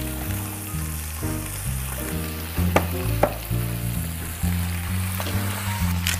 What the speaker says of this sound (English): Did you hear that sizzle? That's exactly what we're looking for.